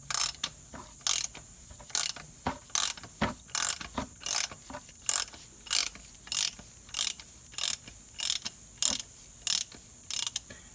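A wrench ratcheting to remove the oil filter on a 2004 Volvo S60, regular clicking ratchet bursts repeating about twice a second, close and crisp with no talk.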